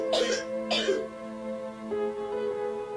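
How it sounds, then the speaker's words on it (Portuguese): A boy coughs twice in harsh bursts after smoking, followed by a quieter throat-clearing sound over a steady background hum. "O menino cospe e tosse bastante depois de fumar 3 haches."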